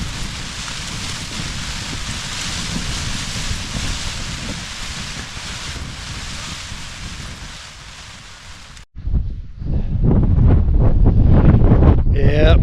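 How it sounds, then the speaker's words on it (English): A squally rain shower sweeps over a wild camp at Sheeps Tor on Dartmoor, with wind buffeting the microphone and rain drumming steadily, then gusting harder and louder after a brief lull. "Oh, the rain. Squally shower coming over."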